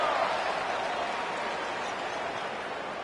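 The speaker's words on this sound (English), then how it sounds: "wow, listen to this crowd noise. This stadium is vibrating." Football stadium crowd roars loudly and steadily, a dense, sustained wash of cheering and noise from the packed stands, with no distinct voices standing out.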